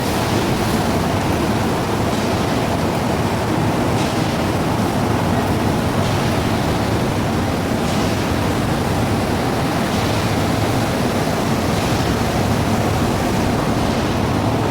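Steady broadband rushing of water from a ship's pump discharging into the sea runs loud and unbroken throughout, with no talk.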